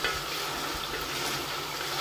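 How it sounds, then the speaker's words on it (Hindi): Mutton frying in ghee for biryani, a steady loud sizzle with light stirring, close and continuous, no voices. "तो ये देखें ये अच्छे से फ्राई हो गया,"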